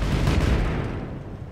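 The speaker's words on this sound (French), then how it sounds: "J'adore les explosions que ça fait." A deep rumbling explosion from the video game Just Cause 3 bursts loudly and close, then rolls off into a fading low roar.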